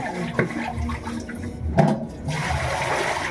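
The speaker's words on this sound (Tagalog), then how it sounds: "maingay yung aking gripo kasi malakas yung pressure" Water gushes steadily from a high-pressure kitchen tap at close range during dishwashing, with a few clinks and splashes, noisy and continuous throughout.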